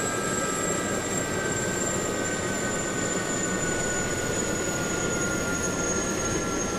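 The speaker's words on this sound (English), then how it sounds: "the rotor here will slowly lose energy now and follow the fuel cut down" A helicopter engine and rotor wind down in the DCS World flight simulator after the throttle is cut, giving a steady loud turbine whine and rumble with high tonal lines that drift slowly lower.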